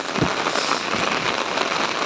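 Heavy rain pours down on a flooded road in a continuous loud hiss, broken by a few sharper patters.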